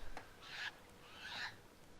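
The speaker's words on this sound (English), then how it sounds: "we're being pecked at by crows" Crows in the video game Prince of Persia: Warrior Within, two raspy bird calls in quick succession, each about a fraction of a second long, fairly faint over a quiet game background.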